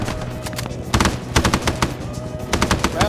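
Rapid automatic gunfire and scattered shots from a Vietnam War-era firefight in the video game Arma 3 SOG Prairie Fire, with bursts of machine-gun fire rattling close and steady throughout, no talking.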